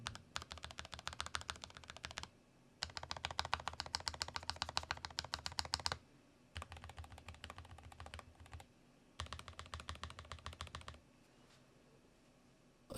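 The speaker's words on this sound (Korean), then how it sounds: "그러면은 요것도 스테빌라이저부터 먼저 체크해 보도록 하겠습니다." Typing on a Lofree Edge 84 slim low-profile keyboard, checking the stabilized keys: four bursts of rapid, close keystrokes, each a few seconds long, separated by short pauses, with no talk.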